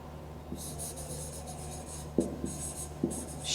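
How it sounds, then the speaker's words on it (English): A pen or pencil writes out a sentence in an English class, a soft, close scratching of strokes with a few light taps, quiet over a faint room hum. "Let's write it down."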